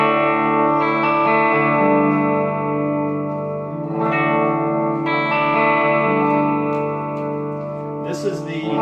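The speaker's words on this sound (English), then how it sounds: "So this is the bridge pickup." A single 1988 Gibson Les Paul Custom Lite with EMG pickups, on the bridge pickup, plays sustained, bright chords and ringing notes with reverb, each chord change clear and close, ending with a short strummed scrape.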